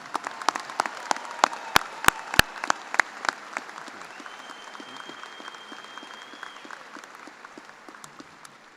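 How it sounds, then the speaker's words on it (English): Audience at a Kansas State University graduate school commencement applauds the graduating class, with scattered individual claps ringing out sharply in a large hall before thinning out. "Let's give them a big round of applause."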